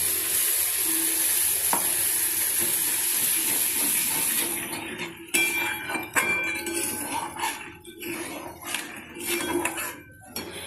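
A spice paste fries in a pan for a paneer and vegetable dish, crackling with sizzle while a metal spoon clinks and scrapes against the pan in irregular bursts, loud at first and then gentler.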